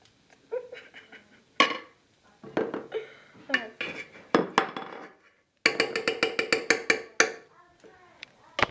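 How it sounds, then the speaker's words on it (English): Irregular scraping and clinking of a utensil against a bowl while butter is mixed to soften it, in bursts with short pauses, close and fairly loud. "Sarah will now mix the butter to get it softened"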